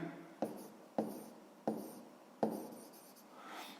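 A pen writing an answer by hand during a sixth-grade math lesson: four crisp, close strokes of the pen on paper, each with a short scratchy tail, quiet and with no voice over them.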